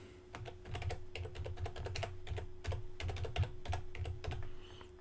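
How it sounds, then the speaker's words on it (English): Steady, close-miked typing on a computer keyboard as a CSS class name is entered in the WordPress Divi theme editor. Rapid irregular clicks run throughout over a faint constant hum. "I'm going to type it this time instead of copying and paste it"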